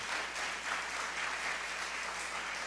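An audience at an educators' award ceremony claps for the judges, a steady, even wash of applause heard at a moderate distance with no one speaking.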